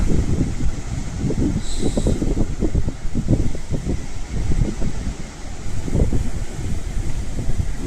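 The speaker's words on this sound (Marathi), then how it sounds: "हवा मस्त सुटली." Sea wind blowing at Ladghar beach on the Konkan coast, a steady gusting rush with low buffeting against the microphone throughout, fairly loud and with no talk.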